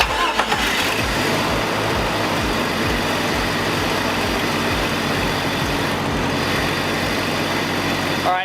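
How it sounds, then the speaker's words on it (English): A Jeep Cherokee XJ engine cranks and starts, then runs steadily with a loud, close rumbling drone for several seconds while parked, with the air cleaner box and filter removed. "I'm gonna go ahead and start the vehicle and just let it run in park"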